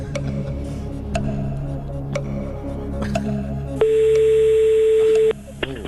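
Telephone dialing to call a friend: a row of sharp, evenly spaced key clicks followed by a loud, steady dial tone of about a second and a half, with faint background murmur underneath.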